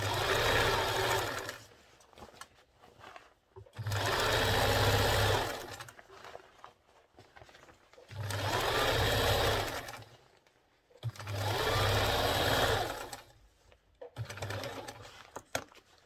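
Sewing machine top stitching the side pocket of a pair of pants, running in four loud bursts of steady whirring separated by short pauses, close by with no talk.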